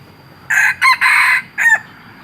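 A Thai decoy rooster crows once, loud and close, in a broken multi-part call lasting about a second and a half against a quiet background.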